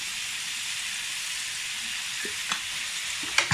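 Pork sautéing in a pan for a Chinese-style cucumber and pork dish gives a steady, moderately quiet sizzle and hiss, broken near the end by a few faint utensil clinks.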